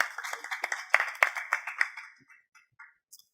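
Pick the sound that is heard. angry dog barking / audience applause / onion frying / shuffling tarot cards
audience applause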